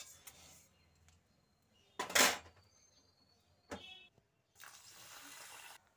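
Kitchen clatter as a pot comes off the stove and a pressure cooker is set down while making Bengali vegetable khichuri, with a sharp metallic clank near the middle, a smaller knock after it and a softer scraping rustle at the end.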